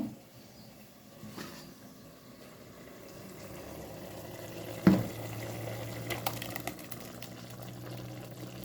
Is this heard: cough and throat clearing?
no